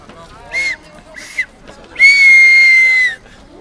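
A person whistles in imitation of a departing train, giving two short toots and then one long sustained blast, loud and close.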